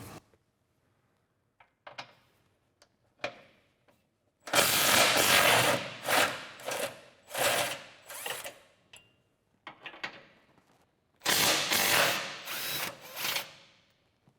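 An 18mm socket on a ratchet loosening skid plate bolts on a Jeep Gladiator JT, with several loud buzzing bursts of rapid clicking separated by quieter pauses and faint handling noises.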